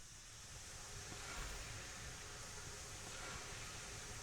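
A steam locomotive idles at a sawmill in the video game Railroads Online, giving off a faint, steady, even hiss with a low rumble underneath and no voices.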